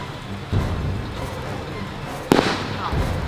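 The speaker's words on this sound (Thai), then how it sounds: "อ้าวมันระเบิดแล้วมันไปไหนเฮ้ย" A sharp firework blast cracks once, close and loud, over an outdoor rumble while people talk.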